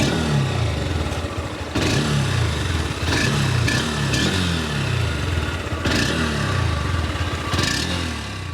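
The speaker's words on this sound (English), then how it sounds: "first listen to the exhaust note of this single cylinder motorcycle" Exhaust note of a 2021 Honda CB200X single-cylinder motorcycle, a loud, close thumping engine running steadily with several blips of revving, heard alone without talk.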